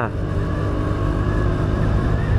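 Honda Giorno+ scooter engine held at a steady, loud drone as the throttle is worked during an acceleration test, close and continuous with no clear rise in pitch.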